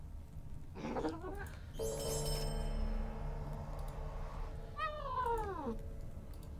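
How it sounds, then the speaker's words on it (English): A house cat meows twice nearby, a short rising-falling cry early and a longer drawn-out one later, with a steady electronic hum and tones in between. "Yes, Tens the kitty cat is making a lot of noise"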